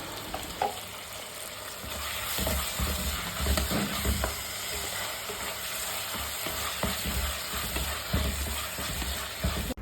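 Onions sauté with ginger garlic paste and ground cinnamon, clove and cardamom for biryani, a steady close sizzle broken by repeated spatula scrapes and stirs, with no voices.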